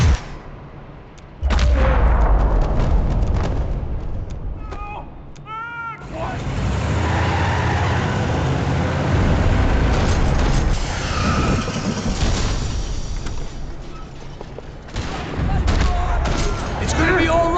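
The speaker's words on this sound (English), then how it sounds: "Another parking lot rattling with gunfire." Bursts of Max Payne 3 gunfire crackle over a loud, rumbling action soundtrack in a parking lot, with shots repeating through the scene.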